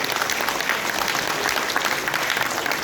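An audience claps at a hospital Founders Day ceremony, a steady dense patter of applause from a crowd filling the whole stretch with no talk over it.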